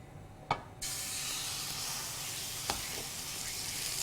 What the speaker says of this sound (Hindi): तो ऑयल में मैं शामिल कर रही हूँ कीमा,